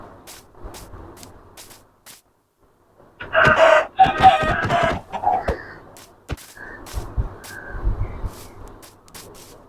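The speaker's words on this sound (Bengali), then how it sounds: "এই মুরগিটা কিন্তু দেখতে কিন্তু অন্যরকম" A Minecraft chicken clucks and squawks in a loud burst midway through, set among quieter in-game ambient sounds and clicks before and after.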